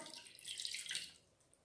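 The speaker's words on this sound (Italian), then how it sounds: "Versiamo l'acqua" Water is poured from a bottle into a plastic cup while making a whipped coffee cream in a kitchen: a soft, splashy trickle lasting about a second, fairly quiet and close, with no voices.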